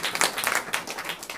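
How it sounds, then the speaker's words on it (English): An audience gives a short burst of applause at a congressional candidates' forum, scattered clapping close and moderately loud. "please give some recognition and applause to a wonderful volunteer"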